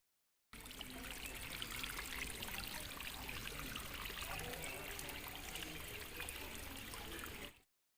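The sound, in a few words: natural spring water trickling through tree roots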